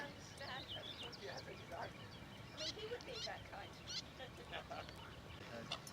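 Black-headed gulls call in scattered harsh cries at a distance, mixed with other waterbird sounds and quiet background talk, at a Kent wetland nature reserve.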